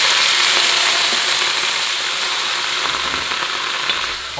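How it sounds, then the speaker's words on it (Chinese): Mooncake pieces stir-fried with screw peppers in a wok give a steady, loud sizzle throughout, with faint scraping from the stirring and no voices. "喜欢吃干的呢，直接翻炒一下，出锅"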